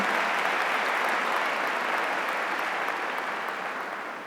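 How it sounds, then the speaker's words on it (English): An audience at a regional civic awards program gives Mayor Shirley Franklin another round of applause, a steady mass of clapping that tapers slightly toward the end. "How about another round of applause for Mayor Shirley Franklin?"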